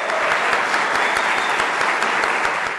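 Steady applause from a crowd, dense continuous clapping that fills the whole moment without pause.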